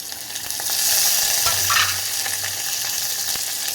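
Green chillies and onion sizzle in hot oil as they are stir-fried, a steady close frying hiss with a brief louder burst midway and no talk.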